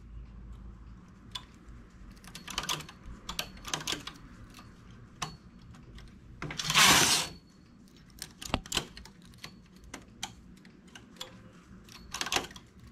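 A knitting machine carriage is pushed across a row, giving clicking, rattling ticks scattered through with one loud, longer sliding rasp midway and another near the end, fairly quiet overall.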